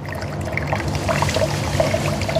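Water trickles slowly out of a coconut in a faint, steady dribble up close, with no talking over it.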